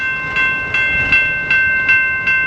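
A General Signals type 2 railroad crossing bell rings at the Columbus Ave crossing in Fostoria, Ohio, while a Norfolk Southern train waits. The bell gives loud, evenly spaced metallic strikes, about seven in a row, close by.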